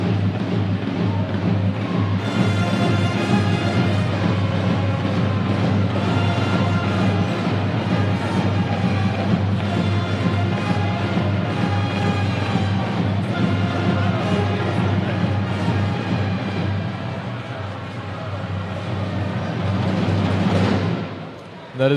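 A school pep band blares a song in a high school basketball gym, brass and drums loud and steady for about twenty seconds, a crowd murmuring underneath before the music fades near the end.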